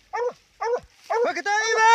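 An American Foxhound barking while hunting armadillo and paca outdoors: three loud, close barks, the last stretching into a drawn-out baying howl.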